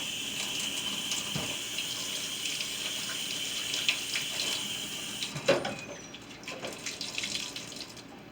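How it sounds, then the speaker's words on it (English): Kitchen tap running steadily while hands are washed in the sink, a close hiss with splashes and clatter toward the end as the flow changes. "I gotta wash my hands, I'm messy."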